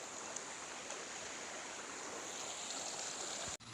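River water rushes steadily around someone wading across a deep provincial river, a broadband continuous wash, fairly faint and unbroken, ending in a brief dropout.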